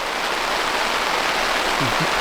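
Rain falls on a tent during a camping trip as a dense, steady hiss of drops drumming on the fabric, loud and close with no break, and a few faint low bumps near the end.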